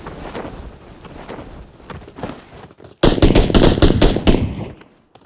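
Gunfire in a close-range gunfight in PUBG Mobile, a loud, rapid burst of shots after a softer stretch of distant firing, with wind noise throughout.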